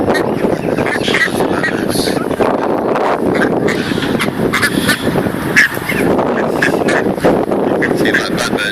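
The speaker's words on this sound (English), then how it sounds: "birds trying to chase, get food off these ducks" Ducks and geese honking and quacking as they are fed bread at Alton Towers, a busy, continuous mix of calls with wind buffeting the microphone and people talking throughout.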